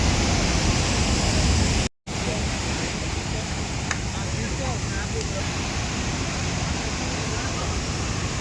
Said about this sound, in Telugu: ఇదే బాహుబలి వాటర్ ఫాల్.